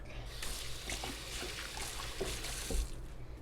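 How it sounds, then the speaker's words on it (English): Water runs steadily from a kitchen tap into a sink while hands are washed beneath it, a continuous close splashing hiss with small bumps of movement. "So I'm going to wash my hands real quick."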